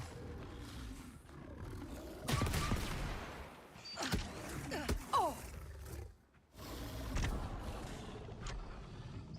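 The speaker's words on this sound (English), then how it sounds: "Sad that I'm shooting these guys" Blaster gunfire erupts while enemies are shot in Star Wars Outlaws, with sharp bursts and zipping shots amid roaring game effects, rising and falling over several seconds with a brief lull partway.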